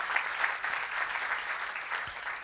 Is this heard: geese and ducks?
no